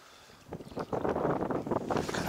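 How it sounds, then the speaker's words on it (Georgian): Gusty wind buffets the microphone at a reservoir during spin fishing, a low rumbling roar that swells after the first half second and stays loud and blustery throughout, with no talk. "ქარია ცოტა, მაგრამ არ აუშავს."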